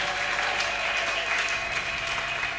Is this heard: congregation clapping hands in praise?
yes